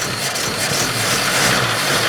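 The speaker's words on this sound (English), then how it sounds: "Yeah, it's idling very low, but it could be because it's missing an air filter" An Opel Ascona engine runs at a low, rough idle while missing its air filter and running on old mixed fuel, a close, continuous rumble with uneven firing and no speech.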